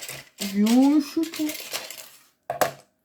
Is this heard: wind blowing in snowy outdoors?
no